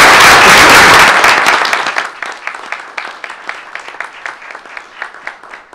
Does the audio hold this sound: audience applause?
yes